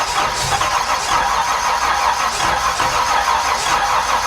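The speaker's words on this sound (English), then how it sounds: "I stopped, I didn't want to overheat the starter." The engine of a 1968 Camaro cranks steadily on the starter, a loud, close, rhythmic whirring churn that never catches or fires.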